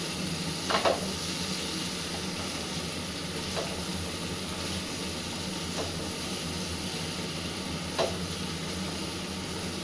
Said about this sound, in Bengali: একটু সময় ধরে এটা কিন্তু আমি নাড়াচাড়া করে নেব।